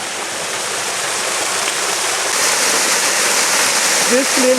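Clean water flows gently down the Njoro River, a steady broadband rush heard near and constant, with a brief voice and faint bird calls near the end.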